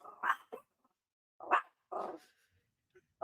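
A dog barks in a few sharp, close bursts separated by short pauses, some with a rough growling edge.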